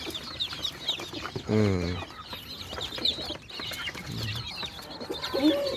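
Newly hatched chicks cheep steadily with high, thin peeps, joined by a louder, deeper clucking call near the middle, close by and fairly busy throughout.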